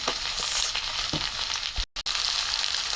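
Ginger and garlic sizzle in hot oil with onions for a hilsa fish curry, a continuous close crackling fry with a few soft stirring knocks and a brief cut-out near the middle.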